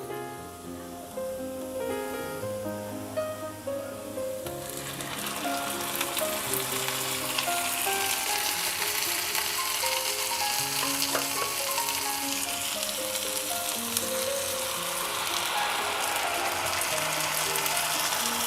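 Onion sizzles and fries in a pan. The crackle swells sharply midway as ground and paste spices are added, then settles into a dense, continuous hiss.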